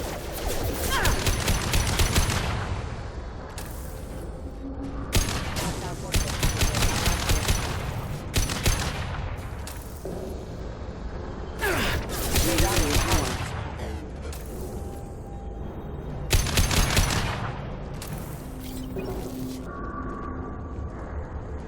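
Gunfire in the Mass Effect 2 video game comes in loud repeated bursts of rapid automatic shots, separated by short lulls with background game sounds.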